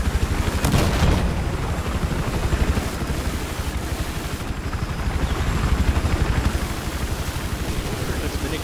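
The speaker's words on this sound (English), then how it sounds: "Oh, and a helicopter." Helicopter rotor thumping steadily beneath bursts of gunfire and booming impacts in Battlefield 4, a dense, loud battle din that continues without letup.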